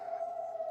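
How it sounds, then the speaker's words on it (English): A tsunami alert siren under test in Alaska sounds as a steady, sustained tone, moderately faint and distant, held unchanged through the short moment. "that siren you hear in the background is just they're testing the tsunami alert system, chemical alert system."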